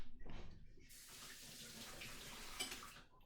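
Running tap water pours steadily into a sink while items are rinsed during ceviche preparation, a soft splashing rush that starts after a brief clatter and continues close by, with no talking.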